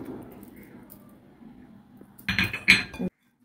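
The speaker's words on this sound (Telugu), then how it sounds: "బాగా మిక్స్ చేయండి" Spices and yogurt are stirred in a bowl with a spoon, soft scraping first, then a brief burst of louder metallic clinks and scrapes before stopping abruptly; no one speaks.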